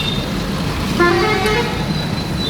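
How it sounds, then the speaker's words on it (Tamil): Heavy road traffic on a route toward Haryana in India, with a dense, loud engine rumble throughout and a short car horn toot sounding once in the middle. "ஃபுல் டிராஃபிக்ப்பா, சரியான டிராஃபிக்."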